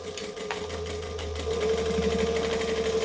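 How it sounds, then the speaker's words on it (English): A sewing machine runs steadily as it stitches a bag, a close, continuous mechanical hum with a fine rapid needle rhythm. "now I'm just going to squish it down and sew"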